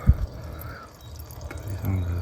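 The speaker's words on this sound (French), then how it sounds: "là où ça coule, là c'est le petit robinet." Fluid dripping and trickling from a small drain tap on a VW Beetle, soft close-up splashes and a faint running trickle, with a thud at the start and some background noise.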